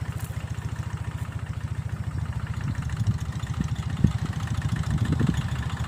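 A small tractor runs on a farm field while working a hoe, its engine chugging in a steady rapid low thump, close and fairly loud, with slight surges in load partway through.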